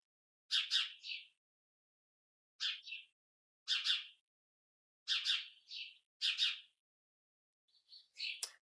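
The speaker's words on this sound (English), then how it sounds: "Good morning, birds." Songbirds calling on a spring morning in a backyard, five or six short bright chirp bursts spaced a second or so apart against near silence, clear and moderately close, with no talking.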